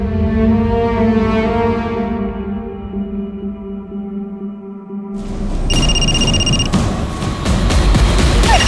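A sustained electronic telephone ring drones with steady tones, then a burst of clattering noise and higher beeping tones cuts in near the end.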